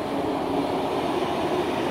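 Model train running around a train circle at an outdoor attraction near a gold museum, a steady continuous rumble of the moving train heard close by with no talking.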